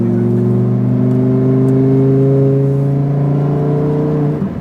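A Lamborghini STO engine accelerates on a racetrack with a loud, steady rising tone that climbs smoothly as the throttle opens. It is close and sustained, with no talk over it, and dips briefly at the end.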